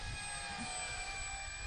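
A Dynam BF109G radio-controlled model airplane with a 1270 mm wingspan flying overhead, a steady thin motor whine with high sustained tones over a low rumble, fairly distant and unbroken.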